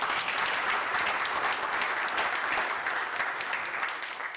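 Audience applause at the Kenya Internet Governance Forum 2023 conference, a full, steady wash of many hands clapping that tapers slightly at the end.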